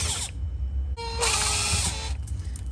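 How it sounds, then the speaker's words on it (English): A power drill fitted with a Phillips bit, used while working on a refrigerator, gives a short close whir that starts after a brief pause, runs about a second and then fades. "I have a drill right here"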